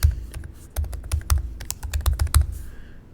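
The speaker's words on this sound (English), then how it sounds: "So right now I want you to type in software update." Quick bursts of keystrokes on a Mac computer keyboard as a command is typed, with crisp, close clicks in uneven clusters followed by a brief pause.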